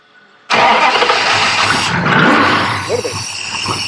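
A car engine on a project build cranks and catches abruptly, then roars loudly as it is given gas before the revs drop back toward idle, close and dominant.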